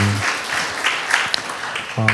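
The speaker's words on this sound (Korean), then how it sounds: "우리 하나님께 영광의 박수 올려드리겠습니다." A church college-ministry congregation applauds in a brief burst of many hands clapping, moderately loud and even, with a short sustained musical tone at the start and end.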